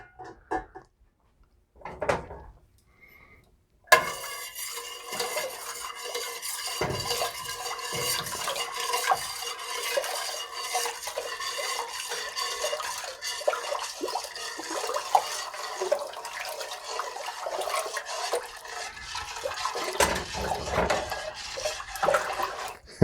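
Sugar being stirred into hibiscus wine liquid until it dissolves makes a continuous close swirl and slosh that runs for about twenty seconds after a few quiet knocks.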